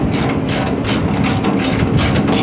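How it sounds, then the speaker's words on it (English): Ratcheting mechanical clicks from a WS50 high-cycle wire saw as its stabilizer legs are lowered, repeating in a steady rhythm of about four per second, close and fairly loud, with a constant low hum underneath and no talk. "You just want to lower the stabilizer until it's stationary."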